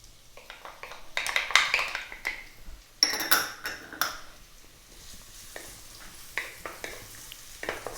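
Ginger and garlic toasting in a pan, light crackling sizzle with clinks and scrapes of a spatula against the pan in uneven bursts, fairly quiet, no voices.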